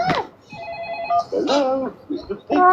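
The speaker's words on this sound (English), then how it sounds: "There's a phone ringing." A telephone rings indoors in short electronic tones, sounding among voices of people talking nearby in a home.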